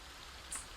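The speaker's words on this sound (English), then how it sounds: "now that it's autumn, it just rains all the time." Autumn rain in Project Zomboid, a brief faint patter of rainfall with a small bright drip or splash near the end, heard alone without speech.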